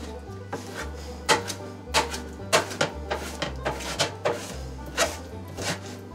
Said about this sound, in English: So I'm gonna cut up this bacon a little bit more.